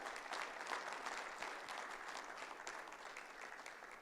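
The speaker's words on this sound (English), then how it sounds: "So please join me in giving another round of applause for the staff of the Bureau of Statistics and Plans" Staff at a Guam planners symposium receive a steady, even round of applause from a seated audience, with continuous clapping that sounds somewhat distant and faint throughout.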